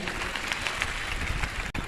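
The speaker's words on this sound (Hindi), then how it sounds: "एक बार तालियां बजाइए" A crowd claps steadily for a couple of seconds, a dense wash of applause with no voices, ending abruptly.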